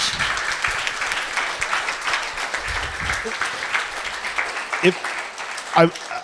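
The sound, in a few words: audience applauding after a fireside chat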